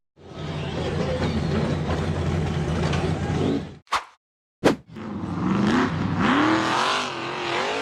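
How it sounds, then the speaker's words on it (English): A red and black off-road buggy's engine roars and revs hard as it climbs a steep rock face, loud and sustained, cutting out briefly before surging again with rising pitch. "The red and black buggy accelerated hard up the steep rock face"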